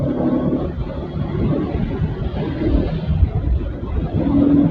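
A Bajaj Pulsar NS 200 motorcycle rides at night on a bumpy road with low tyre pressure. A steady engine drone mixes with constant wind rush against the microphone, with no pauses.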